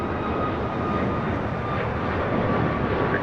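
An airplane taking off from runway 25 right at LAX, a steady broad jet roar that holds at an even level throughout, with no voices.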